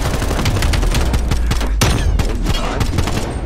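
Rapid automatic gunfire in the video game Black Ops Cold War during a Search and Destroy match, dense loud bursts of shots packed close together with a sharper crack partway through.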